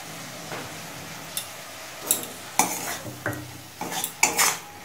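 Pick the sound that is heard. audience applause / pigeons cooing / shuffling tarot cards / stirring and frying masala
stirring and frying masala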